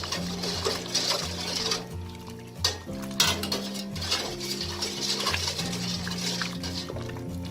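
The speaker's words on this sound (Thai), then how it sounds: "เราคนให้น้ำตาลทรายละลายเลยค่ะ" A spoon scrapes and clinks against a metal pot in a steady stirring rhythm as sugar and salt dissolve in water for lemongrass drink, with a low hum and faint bubbling underneath.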